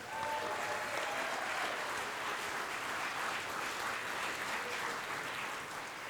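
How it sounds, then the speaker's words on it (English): At an applied art and design award ceremony, the audience applauds the award winners with a steady, even wash of many hands clapping, moderately distant and consistent for several seconds without speech. "Another round of applause to Meghan"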